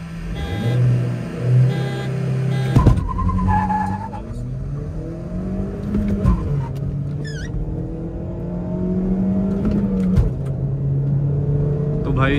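A VW Vento and a Maruti Suzuki Baleno launch in a drag race, engines revving and tires squealing as the cars accelerate hard through gear changes, close and loud, with a voice talking over them.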